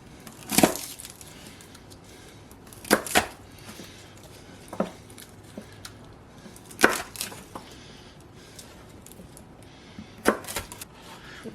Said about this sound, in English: The last thing we got to cut is the garlic.